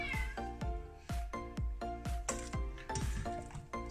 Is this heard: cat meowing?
yes